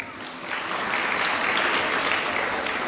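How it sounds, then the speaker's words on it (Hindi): An audience at a spiritual discourse bursting into applause, a dense, sustained wash of clapping from many hands that swells slightly and holds, with no talking over it. "ताली क्यों बजाई आपने?"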